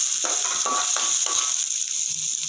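Curry leaves, capsicum and carrot hit hot oil in a pan, giving a steady bright sizzle with several crackling bursts as they are stirred in, close and alone with no talk.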